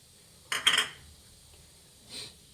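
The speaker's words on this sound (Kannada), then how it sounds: "ತೊಗರಿಬೇಳೆ ಹಾಕ್ಕೊಳ್ಳೋಣ" Dry toor dal is tipped into a pressure cooker, a short clattering pour of lentils against metal, then a fainter rattle shortly after, close and alone.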